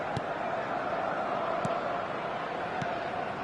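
A dense, steady roar of a large stadium crowd fills a football match in the eFootball video game, an even wash of distant cheering and chatter with a few faint thumps, and no clear voice standing out above it.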